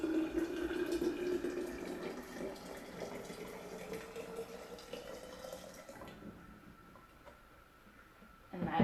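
Boiled water poured into an empty glass jar, a steady splashing pour with a rising fill tone that runs for several seconds before stopping, fairly close and moderately loud, with no talking over it.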